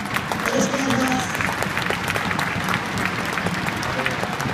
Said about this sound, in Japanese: どうぞ中山選手の大きな声援、大きな拍手をお願いします